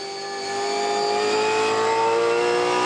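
V8 Supercars race cars at a Sydney Motorsport Park race blare past, a sustained loud engine howl with steady high-pitched tones that builds over the first half second and then holds strong.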